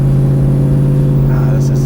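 A 1966 Chevrolet Chevelle SS pro touring car with an LS1 engine cruises along on a test drive, its steady, loud low drone running throughout while someone talks inside the cabin.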